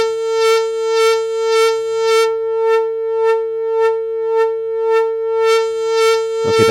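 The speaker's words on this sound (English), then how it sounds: "that's the sine wave from the Pittsburgh filter being modulated with the CV source of the 308" A steady synthesized sine wave from a Pittsburgh filter, modulated through a Synthrotek 308 Eurorack distortion module, pulses in a regular wobbling rhythm, roughly twice a second, bright and buzzy, ending in an abrupt burst.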